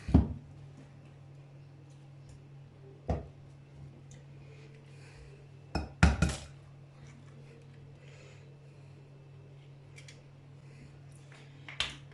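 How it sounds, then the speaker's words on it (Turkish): An egg cracked against a bowl for New York cookie dough after mixing sugar and butter, a few sharp taps and cracks spaced apart over a steady low kitchen hum. "şimdi de yumurtayı kıracağız"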